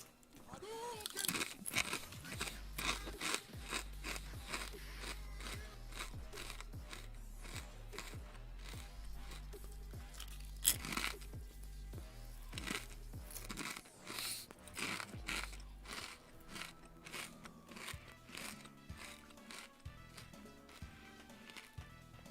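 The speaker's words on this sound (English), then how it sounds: "These are the crunchiest chips ever." Very crunchy chips are chewed close to the mic, with sharp, irregular crunches and bites repeating for about twenty seconds and occasional bag crinkles between them.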